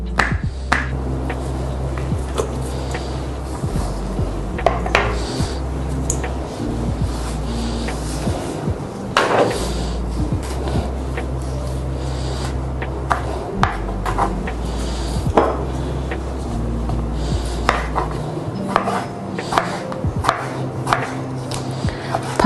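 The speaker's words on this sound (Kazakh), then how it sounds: "Осындай полугорки қызыл және жасыл перестеріміз жіңішкелеп тураймыз." A knife slices red and green bell peppers into thin strips on a board for an achichuk salad, a steady run of crisp, close chops with no one talking.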